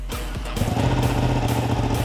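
A Ducati Panigale 959 sport motorcycle engine idles with a low, steady rumble, then picks up into a louder, rougher throb nearby.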